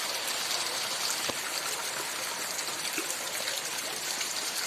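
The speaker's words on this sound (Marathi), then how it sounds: "कसा मुसळधार पाऊस पडतोय हे बघा" Heavy monsoon downpour, a dense continuous hiss of rain with trickling water and scattered drop impacts, steady and enveloping throughout, with no talking.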